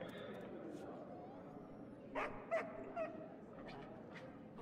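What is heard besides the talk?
dog barking in the video game Pathfinder: Kingmaker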